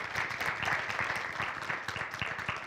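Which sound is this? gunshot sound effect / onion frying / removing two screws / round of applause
round of applause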